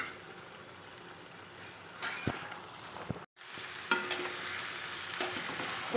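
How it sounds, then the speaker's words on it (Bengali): Lote fish cooks in a pan over a gas flame with the lid off, a soft sizzle of evaporating water broken by scraping stirs and clinks of the utensil, with a brief drop to near silence midway. "এবার আমি মাঝে মাঝে নাড়াচাড়া করব।"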